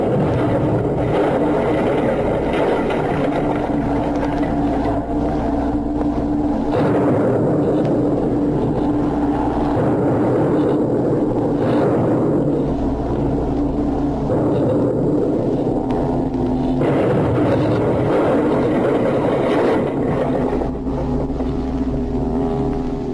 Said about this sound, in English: The bombers are circling overhead.